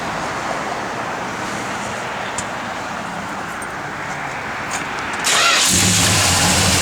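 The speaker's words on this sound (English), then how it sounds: "Car runs good, drives good, nice and tight." A 1970 Dodge Charger SE with a 440 engine and six-pack carburetors cranks and fires, jumping abruptly from quiet background to a loud, steady idle close by, with no talk.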